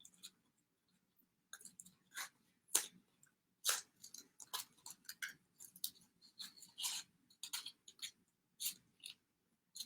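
Scissors snip through paper to cut out craft wings, with a run of short, close, dry cuts coming in irregular bursts and brief pauses, quiet and without any talking.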